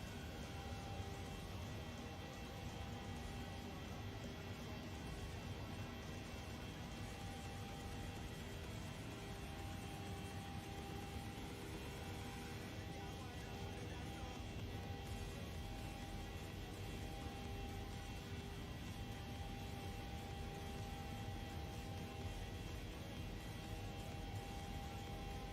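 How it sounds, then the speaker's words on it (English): Engines of a PMDG Boeing 737-800 climbing toward 30,000 feet in Microsoft Flight Simulator on an Oslo to Bergen flight, a steady, faint cabin drone with a constant buzzing hum and broadband whoosh, unchanging throughout. "Oh, just listen to that buzz of the engines."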